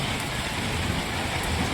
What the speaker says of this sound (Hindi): नहीं, ये बारिश बंद होने वाली नहीं है,